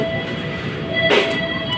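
Manahan passenger train at an Indonesian station, heard as a steady rumble with faint high tones and a brief louder hiss near the end as the train pulls out.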